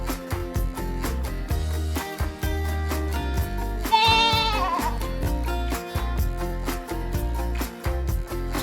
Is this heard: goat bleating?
yes